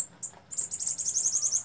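A female sibite bird sings up close. A couple of short high chirps lead into a rapid, bright twittering trill.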